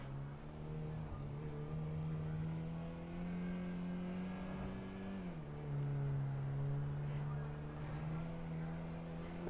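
A car engine in GTA V holds a steady droning hum that climbs slowly in pitch, dips sharply once, then rises again, loud and continuous with faint background noise.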